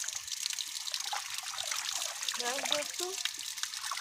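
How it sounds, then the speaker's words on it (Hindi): Water pumped by an electric motor gushing into a village well, a continuous splashing trickle heard up close, with a brief voice rising over it midway. "मोटर चला दी है तो पानी आ रहा है कुएं में।"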